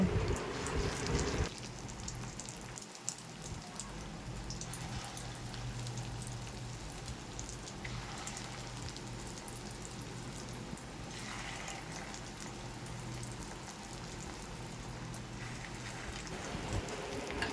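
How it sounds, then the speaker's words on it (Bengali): Fish roe fritters sizzle in hot oil, a steady fine crackling hiss that carries on unbroken with a few louder pops, close and fairly quiet. "বাকি বড়াগুলো ভেজে নেব।"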